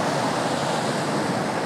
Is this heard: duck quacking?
no